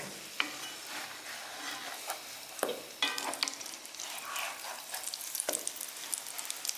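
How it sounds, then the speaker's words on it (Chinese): Flatbread made from leftover steamed buns frying in a pan, a soft steady sizzle with scattered crackles and small pops, close up, no voices. "下面咱开始炕饼"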